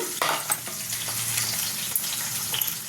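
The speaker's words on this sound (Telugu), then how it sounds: "వేయించాలి జీలకర్ర ఉప్పుని తిప్పుదాము" Cumin seeds and salt fry on low flame in a pan while being stirred, giving a steady close sizzle broken by a few quick scraping strokes, with no talk.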